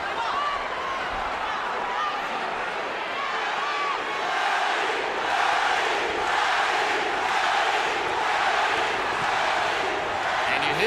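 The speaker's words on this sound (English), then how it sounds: "you hear the adoration of the crowd" A big arena crowd roars steadily through a boxing match between Manny Pacquiao and David Diaz, a dense, sustained wash of cheering and shouting that swells slightly midway and stays loud throughout.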